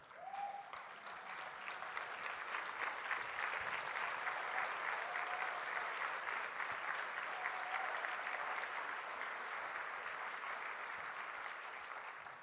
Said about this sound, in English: give Penny a round of applause for what she does